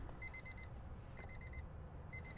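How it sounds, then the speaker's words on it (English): A 2000 Honda Civic Si EM1's interior chime beeps in three quick bursts of rapid, evenly spaced electronic tones, faint over a low cabin rumble. "With that classic Honda beep."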